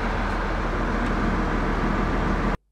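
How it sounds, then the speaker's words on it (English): Heavy road traffic: a dense, steady broadband rumble of passing vehicles, loud and constant with no distinct single pass, cutting off abruptly near the end. "we have the sound of traffic"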